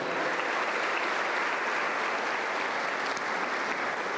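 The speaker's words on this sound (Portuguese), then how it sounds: "para Jesus você vai dar um grande e poderoso aplauso agora" A church congregation gives Jesus a big, powerful round of applause during a prayer service, producing dense, sustained clapping from a large crowd that stays loud and even throughout, with no clear talk.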